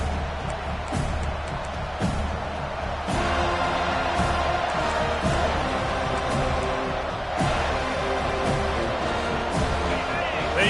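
Stadium crowd at a college football game roaring steadily throughout, a dense loud wall of cheering with occasional thumps and whoops, while a commentator talks over it.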